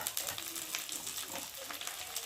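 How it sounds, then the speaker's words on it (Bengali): Onion and garlic fry in a pan with spices being added, giving a steady, close sizzle and crackle that runs throughout without a break. "দেখো বন্ধুরা, পেঁয়াজটা রসুনটা ভালো করে ভেজে নিয়েছি।"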